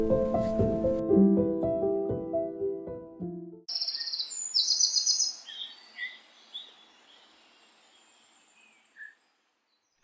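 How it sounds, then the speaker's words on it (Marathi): Forest birds along the Tiger's Nest (Paro Taktsang) trek in Bhutan chirp in short, bright, scattered calls at moderate distance, after an opening stretch of melodic tonal sound, before fading to silence. "पक्ष्यांचा कॉल हा ट्रेक थोडासा म्युझिकल बनवतो."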